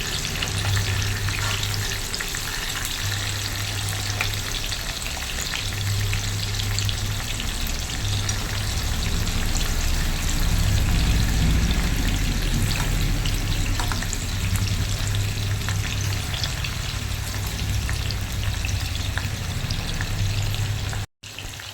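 Crab pieces coated in masala frying in a pan over low-medium heat, a steady dense sizzle with occasional stirring scrapes running throughout, close and fairly loud, cutting off abruptly near the end.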